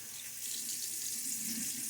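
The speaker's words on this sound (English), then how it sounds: "Splash of water." Water runs steadily from a tap into a sink during a wet shave with a safety razor and shaving soap, a close, continuous splashing flow heard alone.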